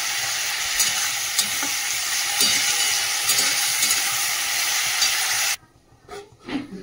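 Salted vegetables frying in a pan on a gas stove, a loud, dense sizzle that runs steadily for several seconds and then cuts off abruptly, leaving quiet scraping and faint movement, no speech.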